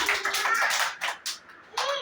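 A group of children clap in a classroom, a short burst of quick, uneven claps lasting about two seconds, close and moderately loud.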